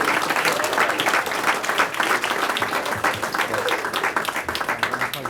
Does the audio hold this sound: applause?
yes